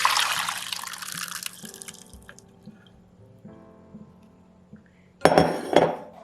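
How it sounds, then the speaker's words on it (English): Water drains from a pot of cooked taro, a soft hiss and trickle with faint metallic knocks of the pot, ending in two louder splashing pours near the close. "once again you drain away the water."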